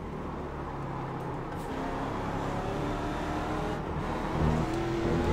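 A Ford Mustang GT race car at Daytona Road course in the iRacing sim, its engine droning and revving steadily at high RPM, loud and continuous, with small rises in pitch and no talk over it.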